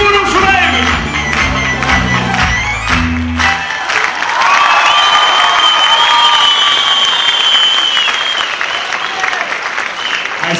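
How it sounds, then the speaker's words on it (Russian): An audience at a stage performance bursts into loud applause and cheering with scattered whoops, sustained and close. A voice speaks over the opening seconds before the crowd noise takes over. "Ваши аплодисменты, гумана!"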